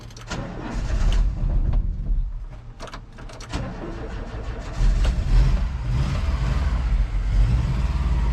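A Volkswagen Vanagon engine turns over and catches, then idles and revs unevenly as it warms up in cool weather, loud and close with no talking.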